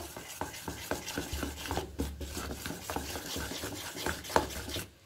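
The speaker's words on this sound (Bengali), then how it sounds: "এখন খুব ভালো করে মিশিয়ে নিচ্ছি।" Semolina batter with baking powder and water is stirred in a bowl: close, steady scraping and rubbing strokes repeat in an uneven rhythm, with no voices.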